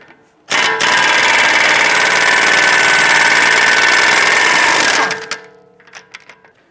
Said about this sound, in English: Use a 35mm socket to remove our axle nut.